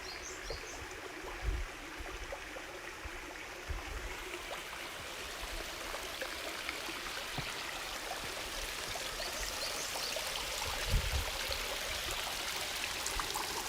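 Steady flowing stream water, murky after rain, a continuous broadband rush with a few small splashes, fairly close and even throughout, in early morning in Tokyo.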